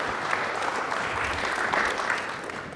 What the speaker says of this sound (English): give them a warm applause and some big yells